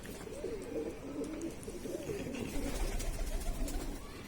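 Kasni pigeons coo steadily in a loft, a low, continuous murmuring burble from several birds, close and moderately loud, with no voices over it.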